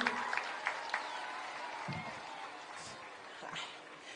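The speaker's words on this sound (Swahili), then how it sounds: "Pigieni Waziri Aisha Juma makofi." A crowd at a Kenyan political rally in Kilifi claps for a minister, a steady, distant patter of applause spread across the scene, with dog-like yelps and scattered voices mixed into the noise.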